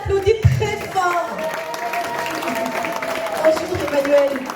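Audience applause for a workers' medal recipient at an indoor award ceremony, a steady wash of clapping running throughout with voices and talk layered over it.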